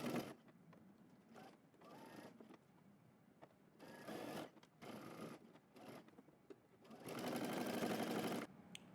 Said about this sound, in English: I'm gonna sew through all layers, and we're using 5/8 of an inch seam allowance.